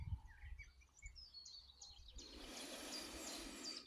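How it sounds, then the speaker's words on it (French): Birds chirp and sing outdoors along a hiking trail, a scatter of faint, high, quick calls repeating over a soft background hush, growing busier and more layered in the second half. "J'inspire le chant des oiseaux"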